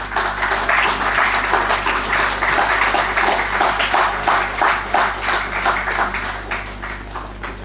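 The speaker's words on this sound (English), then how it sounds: "A huge round of applause for this." Sustained audience applause fills a conference hall at the unveiling of ICOCT 2025 proceedings, many hands clapping steadily and fairly close for several seconds, with a low hum underneath.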